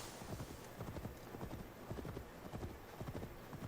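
Horse hooves clip-clop in a steady, rapid rhythm in Assassin's Creed Valhalla, faint and even, with no voices.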